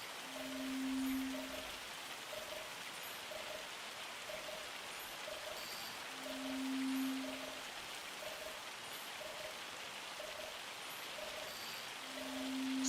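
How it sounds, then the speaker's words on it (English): Hail falling in a farming video game, a steady hissing patter of small impacts like heavy rain, with faint repeating tones and low rumbles recurring in the background. "Turn the radio off so you can hear the hail."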